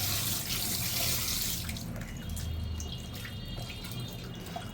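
A tap runs strongly at first while mutton is washed, then the flow eases into softer splashing and dripping with small clinks, close by and without talk.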